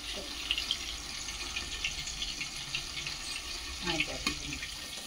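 Water runs steadily in a continuous, even hiss from start to finish, fairly close, with a few faint clinks near the end.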